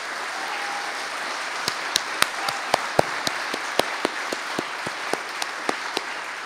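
Scattered, sparse claps from an audience at an emotional talk, a dozen or so separate sharp hand claps spread irregularly over a soft background hiss, never building into full applause.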